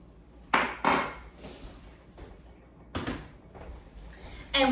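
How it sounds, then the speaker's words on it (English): A spatula stirs gelatin and boiling water in a clear bowl, giving several sharp clinks and scrapes against the sides in irregular bursts, close and fairly quiet between strikes, with no talk. "We're just gonna stir to combine this."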